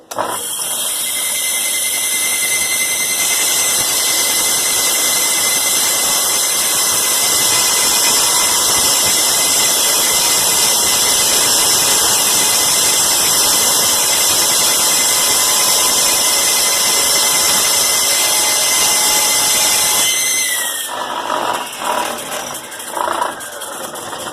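A saw blade cutting through a burnt wooden drawer front, a loud, steady high-pitched whine running continuously for about twenty seconds before spinning down into quieter knocks and handling noise.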